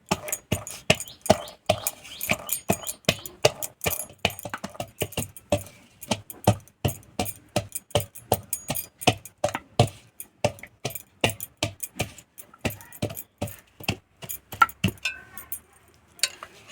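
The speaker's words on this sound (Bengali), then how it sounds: "কিন্তু গড়িয়ে গড়িয়ে পালাবে বলে আমি হাঁড়িতেই পিষে নিচ্ছি" Rhythmic hard knocks of a grinding stone crushing green peas in a pot, dozens of quick repeated thuds, close and fairly loud, with no talking.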